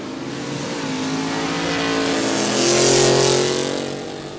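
A Chevrolet Chevelle accelerates down a drag strip at a quick street event, its engine roaring louder as it rises in pitch, peaking near the middle of the run and then fading slightly as it pulls away.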